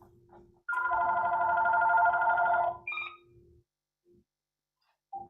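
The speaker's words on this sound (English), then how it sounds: "1 second, I'll turn off the phone." Telephone ringing during an online yoga class, one sustained electronic ring tone lasting about two seconds, loud and close, followed by a couple of short beeps as it is switched off, with faint background noise around it.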